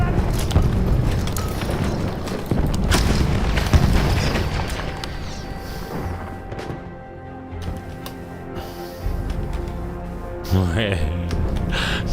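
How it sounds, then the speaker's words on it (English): A grenade blast in the video game Battlefield 1, booming loudly amid heavy gunfire and battle noise, followed by a second burst near the end, with voices talking over the chaotic mix. "Je lance une grenade."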